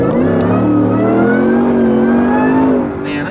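Ford F-150 with the 5.0L V8 revving hard on a dyno, a loud, rising engine roar for about three seconds before it eases off slightly at the end.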